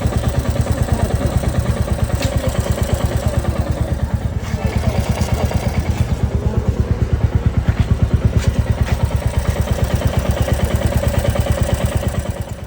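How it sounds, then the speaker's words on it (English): Royal Enfield motorcycle engine running on FuelX Pro Plus E20 fuel, a loud, close, steady rhythmic thumping with a metallic clatter riding over the exhaust beat throughout. "See the clutter, engine clutter is there in map 3."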